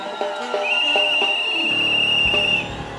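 A single sustained, shrill whistle blast rings out for about two seconds, loud and steady, over a dense background of crowd noise at a praise and worship church service.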